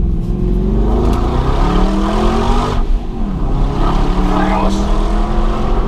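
An Aston Martin AMR engine blips and revs through a heel-and-toe downshift into first in Monaco, loud and close with rising and falling revs over a steady road rumble.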